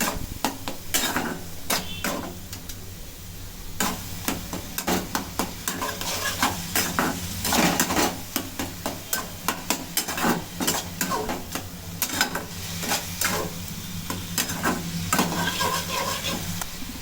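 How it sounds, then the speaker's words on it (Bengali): A spoon stirs a sweet homemade mixture with cardamom in a pan, repeated close scraping and clinking of metal on metal over a soft sizzle, rhythmic strokes continuing steadily, no talk. "এবার একটু ভালো করে মিশিয়ে নেওয়া হচ্ছে"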